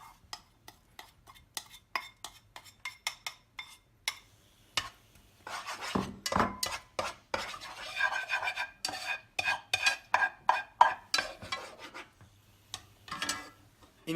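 Minced shallots stirred in a pan over very low heat, a utensil making quick scraping, rubbing strokes in clustered bursts, close and distinct with no talk.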